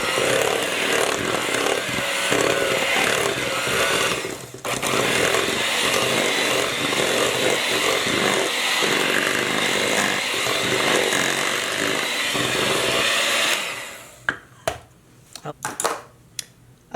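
An electric mixer beats apple sour cream cake batter, a loud steady whirring drone with a brief dip partway through, then cutting off near the end into a few soft clicks and scrapes.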